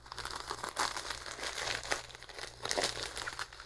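Close, continuous crinkling and rustling of stiff plastic watch packaging being handled and pulled open, with louder crackly bursts and no voices.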